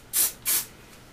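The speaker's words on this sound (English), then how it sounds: "Just gonna spray the back." So Gorgeous Volumizing hairspray from an aerosol can is sprayed onto the back of the hair in two short, close hissing bursts, followed by a faint third puff.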